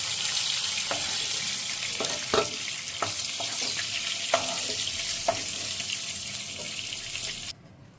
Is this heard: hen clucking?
no